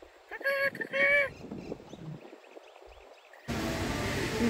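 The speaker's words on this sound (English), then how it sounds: "Come here, chicken. Come here, rooster." Chickens and a rooster at Kahului Airport on Maui, Hawaii, give a few loud squawking calls up close at the start, then fade under quieter outdoor ambience before a steady roar of wind or traffic noise takes over.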